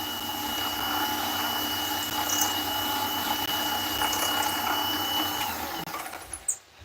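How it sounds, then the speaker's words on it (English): An RC crawler motor from an Injora Capra build runs steadily with a buzzing, chattering whine, close and continuous, then sputters and stops in the last second. "You hear that chattering then? I mean, it just might be that the motor's kaput"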